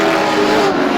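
Race cars lapping the short oval at Star Speedway during a 100-lap feature produce a loud, sustained engine roar at close range, with no talk.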